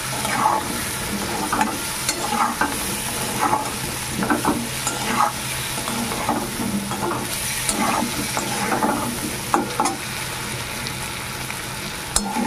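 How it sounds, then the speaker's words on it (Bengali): Fish fat and elephant foot yam fry with salt and turmeric in a pan, a constant close sizzle broken by repeated scraping stirs. "লবণ হলুদ দিয়ে মাছের তেল ওল ভালো করে ভেজে নেব।"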